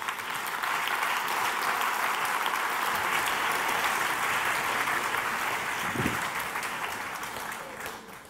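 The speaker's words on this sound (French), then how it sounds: "Merci à présent d'applaudir le candidat" Steady applause from an audience for a contestant at the 2019 Swiss My Thesis in 180 Seconds competition, sustained and even for several seconds before tapering off slightly at the end.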